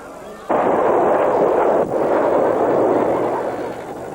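An artillery bombardment in 1994 Rwanda by RPF forces: a loud, sudden roaring blast rolls on for a few seconds, with a second burst close behind, then slowly fades.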